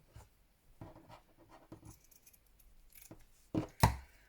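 Scissors cut around a daisy in lacy crochet fabric, giving several quiet snips and crisp closing clicks at irregular intervals, with two louder cuts near the end, close and otherwise near-silent.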